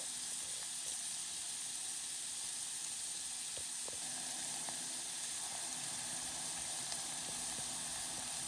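Onions sizzle faintly in hot olive oil in a saucepan, a soft, steady hiss with a few small pops and crackles over quiet kitchen background.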